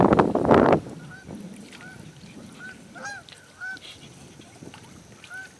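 Canada geese honk repeatedly from a distance after a brief loud burst of noise at the start, with scattered calls overlapping against a quiet outdoor background.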